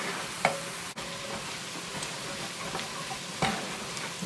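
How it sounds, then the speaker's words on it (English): A spoon stirs flour into butter in a pan taken off the heat, making soft scraping strokes with a few louder taps against the pan over a gentle residual sizzle. "Take it off the heat and just stir it."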